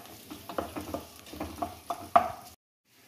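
Onions frying in ghee, a soft crackling sizzle broken by repeated scraping stirs, ending in a sharp clack and then sudden silence.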